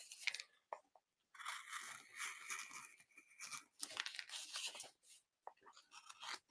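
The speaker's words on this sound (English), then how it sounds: "I'm going to use this gouge, and I'm going to, the same gouge, and I'm going to define the brow bone next. So I'm going to just do a scoop cut" A hand gouge making scoop cuts into a carved Halloween skull around the brow, giving a series of short crisp scraping, crunching strokes separated by brief pauses, close and fairly quiet.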